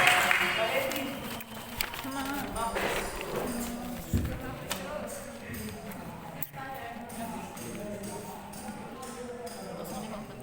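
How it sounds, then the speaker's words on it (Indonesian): An audience claps for a contestant at a university student speech competition final at IAKN Kupang, with steady, dense applause lasting about ten seconds and some voices mixed in. "Silakan memberikan tepuk tangan yang luar biasa."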